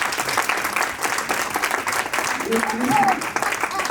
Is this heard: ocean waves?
no